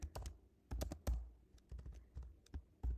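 Quiet, close keystrokes tap on a computer keyboard while a PGP key is renamed, irregular clicks in small clusters separated by short pauses.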